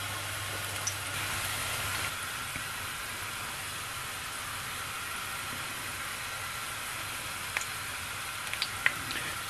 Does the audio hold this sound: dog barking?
no